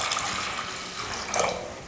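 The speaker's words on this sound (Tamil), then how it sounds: "தண்ணி சேர்த்துக்கலாம்." Water poured into a pot of soaked sago, a continuous close splashing and gurgling pour with no talk.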